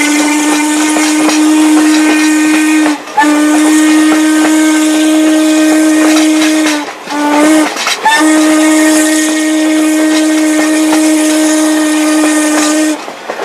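Norfolk & Western steam locomotive No. 475 sounds its whistle in long, loud, sustained blasts with brief gaps, steam hissing around the tones as it rounds a curve at Esbenshade Road.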